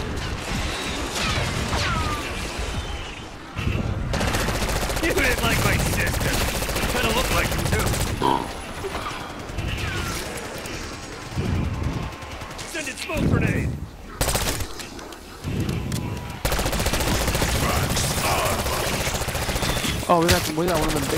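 Automatic gunfire from a weapon in Black Ops 6 Zombies, loud and near, with sustained bursts and brief pauses across the whole stretch amid game crashes and mechanical noises, while players talk over it.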